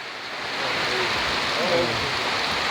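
Rain pouring outdoors in a rural district of Thailand during a windy storm, a steady hissing wash that swells slightly and holds throughout.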